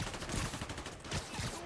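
Bursts of gunfire aimed at the player in a Spider-Man video game, rapid repeated shots in a dense, fairly quiet and muffled stretch.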